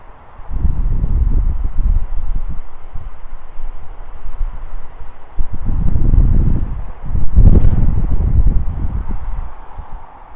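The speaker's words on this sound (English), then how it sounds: "Yep, just a little wind today." Steady wind gusts buffet an outdoor overlook in the Presidio of San Francisco, a low rumbling roar that swells and eases across the clip, loud and close against the microphone.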